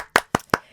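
A few people clap their hands in short, sharp bursts: three loud separate claps followed by a softer fourth, close by, with no voices.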